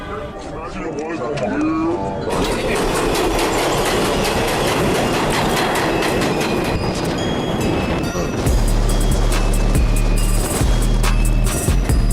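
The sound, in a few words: New York subway train, Manhattan bound local 7 train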